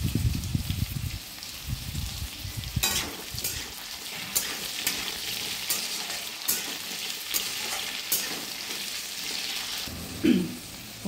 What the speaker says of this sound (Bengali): তেলের মধ্যে আমি আদাটা দিয়ে দেবো।